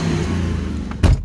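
A Ford Explorer engine with a slight exhaust manifold leak runs with a steady low rumble, close and even, then a brief louder thump near the end.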